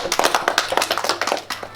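Classroom audience clapping for a primary school student after his presentation, a short burst of close, brisk hand claps from a group with no talking over it.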